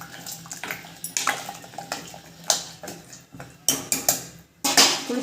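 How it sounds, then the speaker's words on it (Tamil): Tamarind water splashing and pouring into a pot of sambar in a home kitchen, with intermittent clinks of vessels and utensils in several short bursts, fairly close, no talking. "ஒரு விசில் விட்டு புளி தண்ணி ஊற்றிடணும்."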